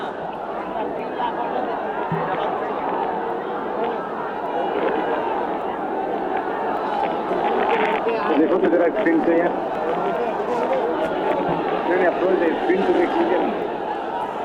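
A large crowd fills a road during a funeral procession in Ghazipur, a dense, continuous murmur of many voices with movement and shuffling, steady and swelling slightly; a nearby voice talks over it.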